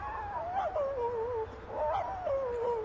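A cartoon dog in the 101 Dalmatians animated storybook video game whimpers in several high, wavering whines that rise and fall over a low background hum, with no talking.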